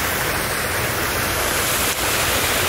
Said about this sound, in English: sound of waterfall, and it is so beautiful